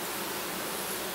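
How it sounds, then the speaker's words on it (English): A swarm of honeybees buzzing steadily, a dense, even hiss-like drone of many wings close by with no voices. "Lots of bees flying around"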